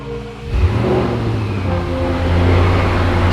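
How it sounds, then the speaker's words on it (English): A rebuilt, previously wrecked Audi RS6 fires up and idles up close, its engine and exhaust settling into a loud, steady burble. "we're going to get to hear exactly what the exhaust sounds like"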